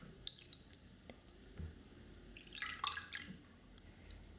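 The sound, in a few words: water dripping during manicure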